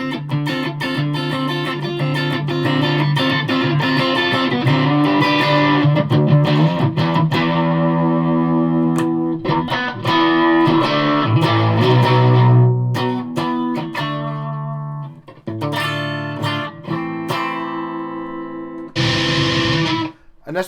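An electric guitar played through the distortion patch of a Zoom 606 multi-effects pedal gives loud, heavily distorted chords and sustained notes, with several abrupt cutoffs and short pauses between strummed passages.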